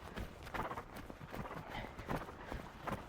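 A horse walks during a riding session, its hooves clip-clopping in a steady rhythm at moderate distance, with soft ambient noise and no talking.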